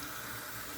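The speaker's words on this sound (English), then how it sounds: "I'm going to fill up my Fuji mug a little bit more with water." Tap water pours steadily into a Fuji mug, a brief, even, close-up rush of running water.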